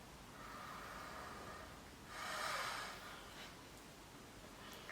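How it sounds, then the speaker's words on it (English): A slow, deep exhale during a guided breathing exercise swells softly in the middle of the stretch and then fades, with a faint airy hush before and after and no talking. "Another maybe 2 deep exhales"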